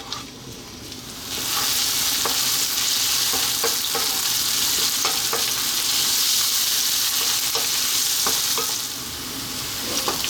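Sliced onions hit hot oil on above-medium heat, bursting into a loud, steady sizzle that holds for several seconds, with occasional clinks of a utensil stirring through the pan, before easing slightly at the end.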